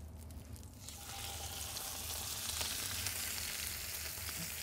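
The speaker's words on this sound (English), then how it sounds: "That sizzle when the pan's really hot" Steady, hissing sizzle of meat frying in a hot pan, continuous and close, building slightly after the first second.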